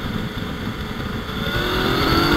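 A Yamaha Tracer 900 with a crossplane engine revs steadily, its note climbing toward the end in a loud, close, continuous rise, with no talking over it.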